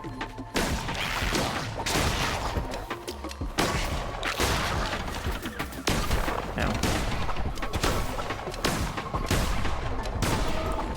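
Video game gunfire in dense repeated bursts, loud and close, with clusters of rapid shots broken by brief gaps and booming impacts mixed in.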